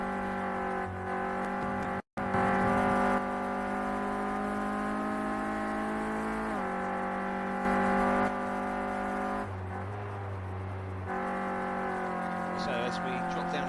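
A Clio Cup race car engine in a racing video game whines steadily at high revs, with brief dips where the driver shifts down a gear, while a commentator talks over it.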